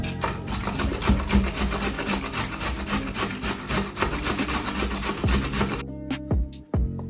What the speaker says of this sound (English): So as you grate, you transfer it into the bowl.